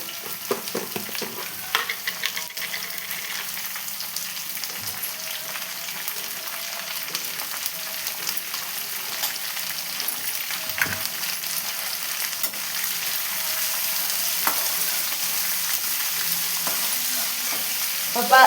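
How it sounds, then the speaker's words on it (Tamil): Onions sautéed with salt in a pan for potato poori masala, giving a steady crackling sizzle throughout with occasional stirring scrapes, close and continuous. "இப்போது கொஞ்சமாக உப்பு சேர்த்து வதக்கிக்கலாம் ஆனியனுக்கு தேவையான அளவுக்கு."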